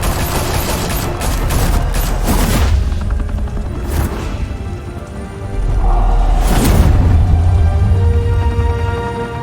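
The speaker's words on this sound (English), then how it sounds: "Open fire!" Bursts of gunfire and heavy booms in the Batman: The Telltale Series video game, loud dense volleys at the start and again later, with a rumbling lull between.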